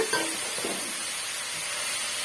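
Cabbage and grated coconut sautéing in a pan for a Tamil-style cabbage poriyal, giving a steady soft sizzle with a faint stir or two near the start, close and moderately quiet.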